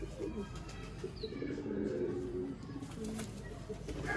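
Ferozpuri pigeons coo softly in a loft, low throaty calls repeating over faint background noise, with a brief higher chirp in the middle and no clear talking.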